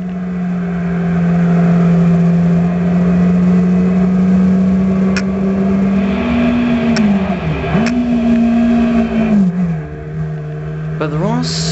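A Mini hatchback is driven fast, its engine droning loudly and rising through the revs. Pitch drops at gear changes and then climbs again, and a voice talks over it.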